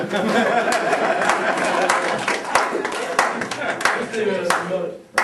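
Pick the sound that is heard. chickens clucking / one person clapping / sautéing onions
one person clapping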